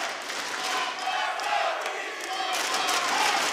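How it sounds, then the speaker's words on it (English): A large esports arena crowd roars and cheers at the Six Invitational 2018 Rainbow Six match between Evil Geniuses and Rogue, a loud sustained swell of many voices. "this is the loudest we've heard the crowd all day"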